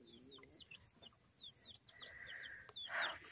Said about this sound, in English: Yeah, I think that one may be a rooster.